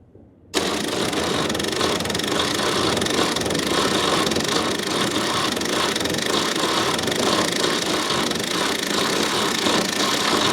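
A 1969 Toyota engine, parked for 33 years, cranks steadily on the starter and labours without catching. The loud, continuous churning holds for about ten seconds after a brief quiet start, with no voices over it.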